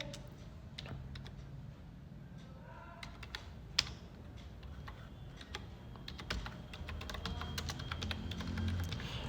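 Rapid typing on a computer keyboard while entering a registration number into an online form, with steady soft key clicks running throughout and one sharper tap near the middle, heard close up with no talking.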